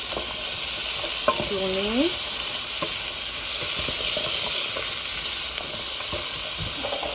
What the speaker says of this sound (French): réduire un peu notre feu pour que nos oignons ne brûlent toujours pas, et nous allons continuer à tourner